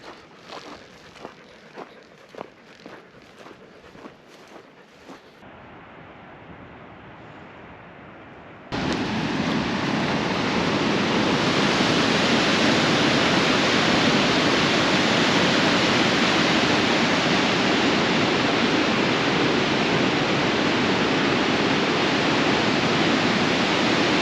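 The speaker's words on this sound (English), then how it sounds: "We're gonna go check out this waterfall." At a Yellowstone chasm, a few scattered footsteps and quiet rustling give way to the sudden, loud, continuous roar of a waterfall that fills the rest of the scene without any talk.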